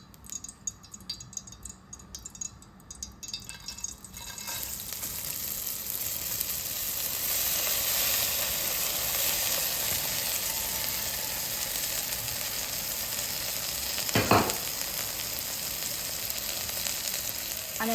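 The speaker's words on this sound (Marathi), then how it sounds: "लापशी तुपावर छान त्याची परतून घ्यायची" Broken wheat (lapshi) roasts in melted ghee in a pan, a steady, close sizzle that swells after a few seconds and holds, with a brief scrape of stirring partway through.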